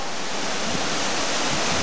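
Bugtong Bato Waterfalls pouring down, a dense, steady rushing roar heard close and loud with no break or voices.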